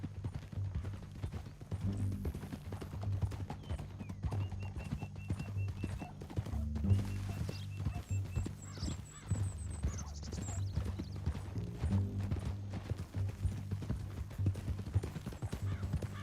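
Steady rhythmic horse hoofbeats clip-clop on and on in Red Dead Redemption 2, under a low rumbling background, with a few faint high chimes and whines mixed in.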